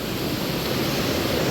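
Rushing water on the road to Skardu, a dense steady roar close by with no break and no voices.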